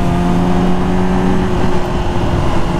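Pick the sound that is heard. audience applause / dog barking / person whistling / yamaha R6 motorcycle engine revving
yamaha R6 motorcycle engine revving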